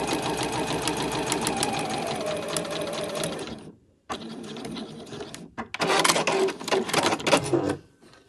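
Domestic sewing machine straight-stitching a 1 cm seam on a fabric scrunchie: a close, whirring motor run of several seconds, a short pause, then a back stitch and further bursts of stitching before it stops.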